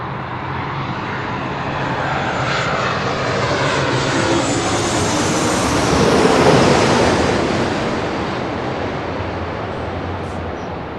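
A Southwest Airlines Boeing 737 MAX 8 airliner arriving from Oakland at LAX roars overhead, its jet noise swelling to a loud peak past the midpoint and then easing off, with no talk over it.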